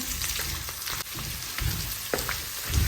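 Nuts dry-roasting in a pan for carrot gajrela give a soft, continuous crackling hiss, broken by a few scrapes and stirs of the pan, close and fairly quiet, with no voices.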